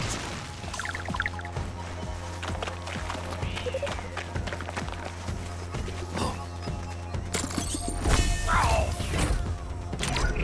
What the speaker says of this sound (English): With the threat eliminated, the supply crate has unlocked.